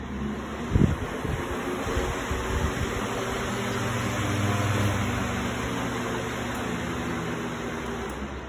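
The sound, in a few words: electric fan running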